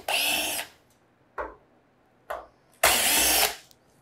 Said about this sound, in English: we're gonna loosen our two self-tapping screws here first